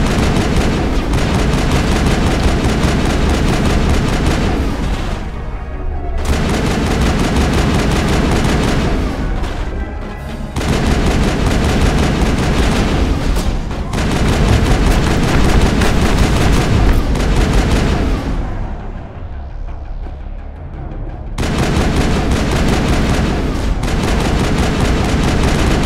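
Dense, loud gunfire from the Mass Effect video game, bursts of rapid shots and booms with brief pauses between volleys, nearly no talk.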